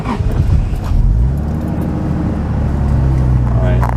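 A manual Lexus Aristo with a JZ-series engine cranks and fires up, settling into a loud, steady low idle that runs the whole time, close to the microphone.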